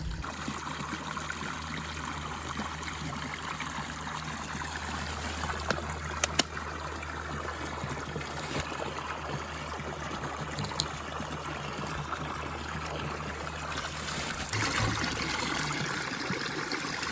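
Water pours steadily in a continuous stream into a 5-gallon bucket at a permaculture flood and erosion site, a constant splashing rush with faint low hum beneath and no talking.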